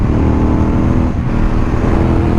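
Ducati 916 SPS motorcycle engine roaring steadily while being ridden, a loud, close, continuous drone laced with wind noise and no speech.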